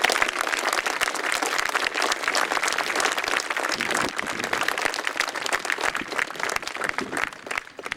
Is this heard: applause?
yes